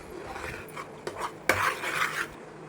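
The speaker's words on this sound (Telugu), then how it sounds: "యాలకుల పొడి వేసుకుని ఇలా అయితే ఒకసారి కలుపుకోవాలి" Cardamom powder is stirred into bobbatlu filling in a pan, giving soft scraping and rubbing strokes of a spoon with a couple of brief metallic taps, close by and moderately quiet, with no talking.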